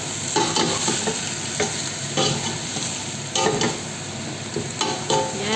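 Meat coated in spices is stirred in a hot pot for an Arabic marag bamiya okra stew, with irregular spoon scrapes and knocks over a steady close sizzle, no talking.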